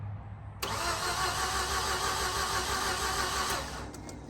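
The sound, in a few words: automatic Mazda RX8 engine starting after 2.5 years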